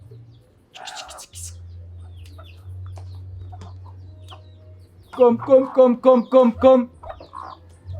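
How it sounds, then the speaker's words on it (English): Chickens at feeding time in a Jamaican country yard, clucking up close in a quick run of repeated calls, with a voice calling them in between. "I feed the fowl."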